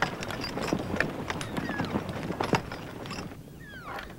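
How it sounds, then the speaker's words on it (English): Horses pulling sleighs through a winter elk refuge, hooves clip-clopping in a quick irregular rhythm over a low outdoor rumble, with faint bird-like calls near the end. "each winter thousands of visitors ride horse-drawn sleighs to see the elk herd firsthand"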